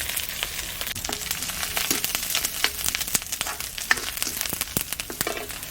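Curry leaves and green chili sizzle in frying onions in hot oil, a steady close crackle with sharp pops and occasional stirring clicks, without talk.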